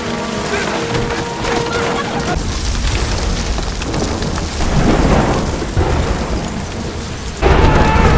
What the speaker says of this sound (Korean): 네, 우박이 쏟아집니다.